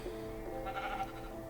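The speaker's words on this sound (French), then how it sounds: "Un mouton, je sais pas ce qu'il fout là." Sheep bleating in Minecraft, a single wavering bleat standing alone and fairly clear over a low steady background hum.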